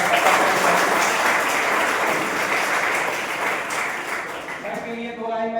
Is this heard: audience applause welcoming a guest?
yes